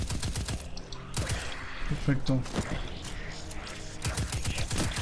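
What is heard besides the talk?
gunfire in the video game Destiny 2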